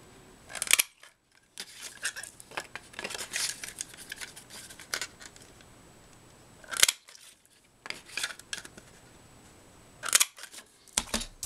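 A hand paper punch snaps through cardstock for a Valentine's card, sharp bursts of cutting and clicking spaced a few seconds apart, close and fairly quiet with no voices.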